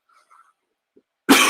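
A single sharp, loud cough bursts out at the end after near silence and a couple of faint small sounds.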